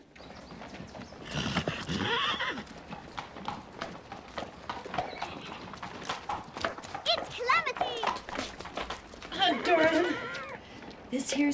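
Horses whinny and neigh amid steady hoof clopping, with other noisy activity around; fairly close and lively throughout.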